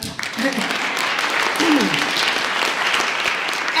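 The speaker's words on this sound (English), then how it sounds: "Oh yeah, you could clap." Audience applause at a public library reading event, a dense, loud burst of clapping that starts at once and holds steady to the end, with a faint voice briefly under it.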